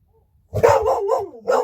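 Hound dogs hunting raccoons bark and bay in a few loud, drawn-out calls after a short silence, fairly close.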